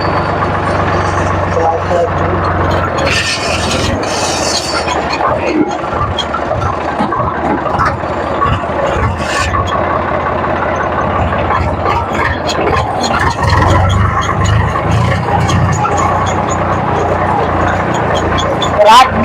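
A farm tractor used for hauling turmeric, driving home along a small field road, with its engine rumbling steadily and fairly loud beneath continuous talking.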